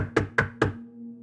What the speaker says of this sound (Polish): znowu dobiegł go odgłos pukania